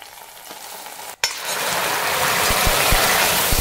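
Hot oil tempering of shallots, green chillies and curry leaves poured into a simple curry, a sudden loud sizzle that bursts in after a short pause and hisses steadily, with faint metal clicks.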